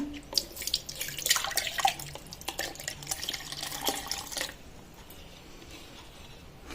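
Cold water from the fridge poured into a mixer jar of cream for churning homemade butter, a close splashing stream running for about four seconds before tapering into a quieter trickle.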